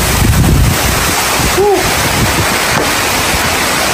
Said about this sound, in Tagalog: Naabutan po kami ng hangin dito, guys. Ng ulan. Lakas ng ulan